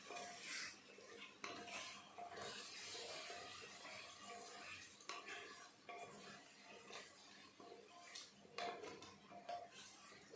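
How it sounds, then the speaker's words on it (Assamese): Marinated chicken is stirred in a pressure cooker over a gas flame, with quiet, close scraping and clinking of a metal utensil against the pot and a faint wet sizzle beneath. "এতিয়া মই ইয়াত মেৰিনেট কৰি থোৱা চিকেনখিনি দি দিছোঁ আৰু চিকেনখিনি এতিয়া মই ভালদৰে মিক্স কৰি লৈছোঁ।"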